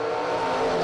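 A Ford Maverick and a Plymouth Scamp at a footbrake drag racing event: loud, steady engine roar held at high revs for under a second, close by with no break.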